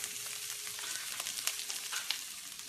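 Chopped onions fry steadily in a pan on a new stove, a soft continuous sizzle with small crackles and pops, fairly quiet and alone without talk.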